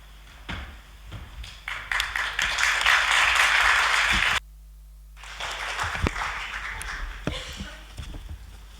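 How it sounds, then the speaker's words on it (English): Audience applause for a conference speaker at an international C.S. Lewis society gathering, a broad wash of clapping that swells, cuts out briefly, then resumes at a lower level with scattered individual claps. "I assume that's clapping"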